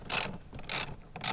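A ratchet wrench loosens the seatbelt bolt inside a 2016 or later Toyota Tacoma, three close, crisp bursts of rapid clicking spaced evenly apart.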